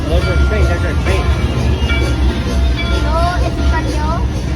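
A train pulls in at Disney's Hollywood Studios with a steady low rumble and a few squeals from the wheels or brakes, while a busy crowd chatters nearby and people talk close by.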